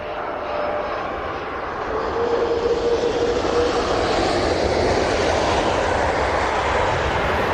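A VIP aircraft in a special retro scheme arrives at the Royal International Air Tattoo, its jet engines producing a loud, steady roar that swells slightly as it passes, with no voices over it.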